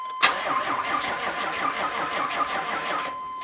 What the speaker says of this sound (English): So we're going to start it up again and see if the wheels turn easily